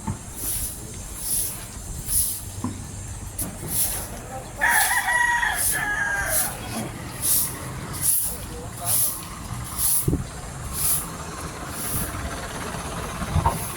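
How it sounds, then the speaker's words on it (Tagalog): Roosters crowing repeatedly at a busy Sunday jeepney parking area in a Philippine town, calls recurring every second or so over traffic rumble, an air-brake hiss and brief voices nearby. "Daming manok."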